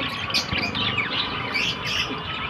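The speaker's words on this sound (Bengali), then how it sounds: "অনেকগুলো পাখি এখানেই আছে, দেখছি" Budgerigars in a bird shop chirp and twitter continuously at moderate distance, a steady chatter of short high calls with no talking.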